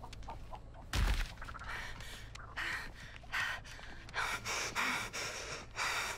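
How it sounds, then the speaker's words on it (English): Heavy, ragged breathing from a character in The Texas Chainsaw Massacre video game inside a slaughterhouse map, with uneven gasps and snorting inhalations in a repeating rhythm, plus one sharp thump early on. "Listen to that heavy breathing."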